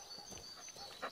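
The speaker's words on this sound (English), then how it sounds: "Stop barking. What are you barking at?" A dog in the Blair Witch video game barks a few times, short and faint against a quiet, hissy background.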